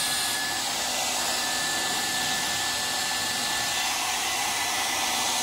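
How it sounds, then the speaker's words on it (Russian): A construction heat gun blows continuously at close range during snowmobile engine repair, a loud, steady airy roar with a faint whine and no pauses. "Фен у нас, видите, какой? Строительный"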